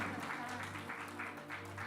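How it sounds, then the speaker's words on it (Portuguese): A church congregation gives brief applause to Jesus, with dense, fairly distant clapping over a steady low hum. "Quantos podem dar um aplauso ao Senhor Jesus?"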